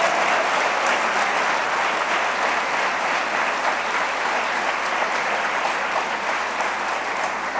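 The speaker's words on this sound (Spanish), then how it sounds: "Dele fuerte el aplauso al Señor." A church congregation applauds loudly and continuously, a thick even wash of clapping from a large crowd that holds steady without any talking.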